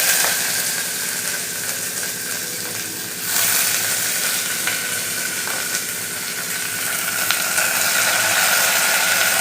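Onions and green chillies frying in oil with cinnamon, cloves, cardamom, bay leaf and fennel, a steady loud close sizzle running throughout without talk.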